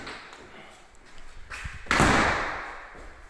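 A door being pulled shut inside a four-unit prefabricated house in Kızılinler, Eskişehir, giving one loud, close slam with a short thud after some light rustling and handling noise.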